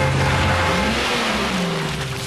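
A cartoon car from the Godzilla series drives off with a loud, steady engine whir that rises and falls in pitch as it accelerates away, close and continuous.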